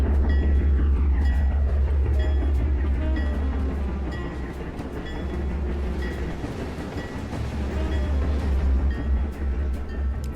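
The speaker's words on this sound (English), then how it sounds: "So this should be a nice heavy train to try to get out of here." A heavy freight train pulling out in the railroad game P&B, a steady low rumble with clanking wagons and a faint squeal, continuous and fairly loud, with no talk.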